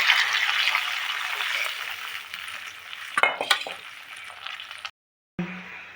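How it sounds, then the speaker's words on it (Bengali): Soy sauce chilli chicken sizzles loudly in a pan, then water is poured in with a brief splashing hiss before a sudden silence and renewed, softer sizzling. "এই দুটো একটু নেড়ে চেড়ে এই যে এবার জলটা দিয়ে দিতে হবে"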